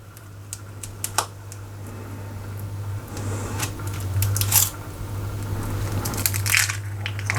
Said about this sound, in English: I can hear the paper being chewed, but I can't see it.